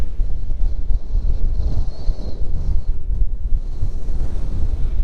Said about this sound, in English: It is a bit breezy up here, so you might not get any of this